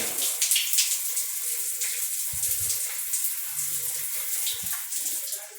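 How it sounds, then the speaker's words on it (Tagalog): Steady hiss of a newly installed bathroom shower spraying, loud and continuous, with a few brief low knocks partway through. "Ayan, malakas naman po yung shower."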